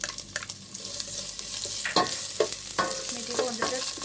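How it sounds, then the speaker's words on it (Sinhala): Garlic, green chilies and onion sizzle in a pan, a steady broadband hiss broken by sharp scraping stirs of a spatula at irregular moments, close and fairly loud with no voices. "තව ටිකක් රන්වන් පාට වෙනකම් අපි මේක බැදගමු."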